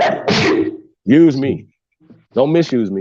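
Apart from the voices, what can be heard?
sneeze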